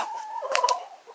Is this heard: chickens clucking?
yes